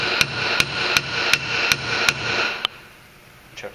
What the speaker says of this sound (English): And we're just going to take a hammer